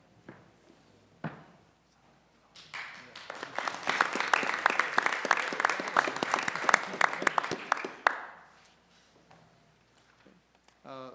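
Audience applause at a school board of education meeting builds after a pause, a steady patter of many hands for several seconds before tapering off, with brief quiet talk and shuffling before and after.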